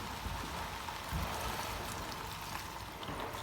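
Chicken stock poured from an opened carton into a pot of lamb and vegetable soup, a steady broadband splashing pour running continuously and fairly loud throughout, with no talk over it.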